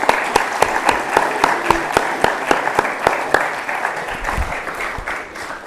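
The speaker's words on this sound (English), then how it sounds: "a big round of applause for them" Applause from the audience at a secondary school presentation day assembly, a loud, sustained round of clapping with sharp individual claps standing out, continuing steadily before tapering slightly.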